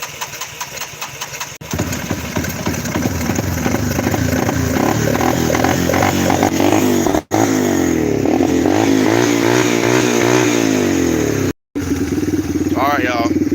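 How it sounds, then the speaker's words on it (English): A four-wheeler ATV engine cranks and catches, then runs with a steady loud mid-pitched idle and a few revving swells, while someone talks over it. "after that right there, it should crank up"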